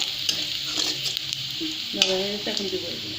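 Raw cumin seeds fry in a pan for a bean and bottle gourd bhaji, giving a steady close sizzle with faint stirring scrapes and a few soft clinks partway through.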